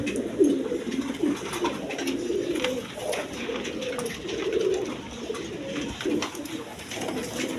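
Four male pigeons in a breeder's loft coo continuously in low, rolling, overlapping phrases, near and steady throughout with no break.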